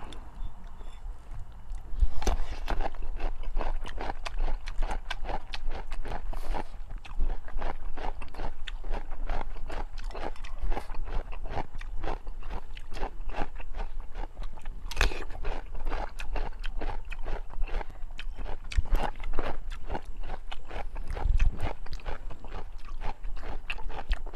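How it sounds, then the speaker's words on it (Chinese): Crunchy raw cucumber dipped in sauce being bitten and chewed close to the mic, a long run of crisp, irregular crunches and mouth sounds with no talk. "来口黄瓜蘸酱。"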